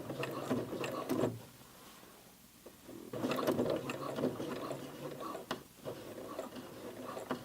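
A home sewing machine stitches a denim jeans hem up and over a thick side seam, giving a steady mechanical ticking and whirring that slows and labours briefly, then runs again, with faint background noise.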